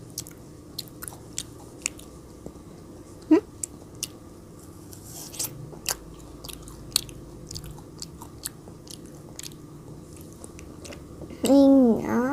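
Large frozen grapes are bitten and chewed close to the mic, with scattered crisp crunches over a quiet background, and a brief voice near the end.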